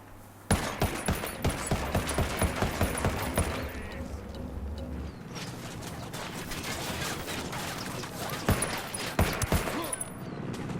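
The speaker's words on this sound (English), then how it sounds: "Minigun, there we go." Minigun fire in the video game Ghost Recon Wildlands: a rapid, dense stream of gunfire bursts, loud and continuous at first, then a rumbling lull before further sharp volleys return near the end.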